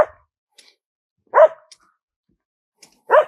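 A dog gives three short, loud barks at nearby range, spaced about a second and a half apart, with silence between them.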